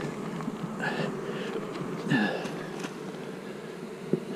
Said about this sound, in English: Oh boy, lots of bees.